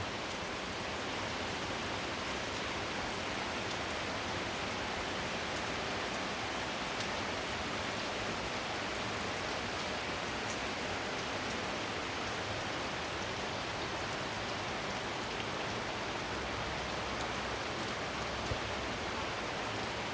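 Steady rain falls outside a house on a grey, wet morning, a continuous even hiss of drops on surfaces with no pauses, close and moderately loud throughout.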